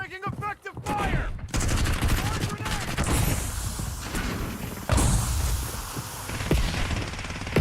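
Incoming gunfire in the video game Warzone, dense bursts of shots that keep going through the whole stretch, loud and close, with sharp cracks standing out over a steady roar of battle noise.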